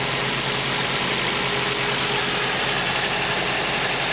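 A 1986 Toyota Sprinter Trueno AE86 GT-Apex with aftermarket air filter, exhaust header and plug wires idles steadily, a dense, even engine hum heard close without talk.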